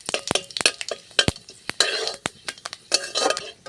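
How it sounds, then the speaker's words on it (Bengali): Whole five-spice seeds stirred in hot oil in a wok, giving a run of sharp metallic scrapes and clinks from the spoon against the pan with a light sizzle between them, close and clear, with no talk. "একটু নাড়িয়ে নেব।"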